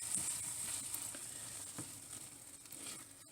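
Paprikash sauce heats in a pan with a soft, continuous sizzle and a few faint stirring scrapes, quiet and close, with no talking.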